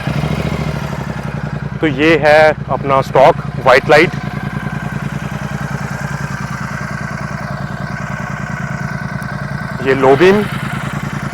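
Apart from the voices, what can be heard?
Royal Enfield Super Meteor 650 motorcycle engine started and idling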